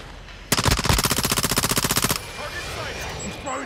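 Submachine gun fire in Call of Duty Modern Warfare II, one loud sustained automatic burst of rapid, evenly spaced shots lasting over a second, followed by quieter game ambience.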